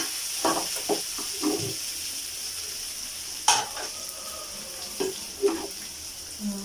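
Arroz caldo stirred as it fries in hot oil in a pan: a steady sizzle with several louder scraping stirs close by, no talking.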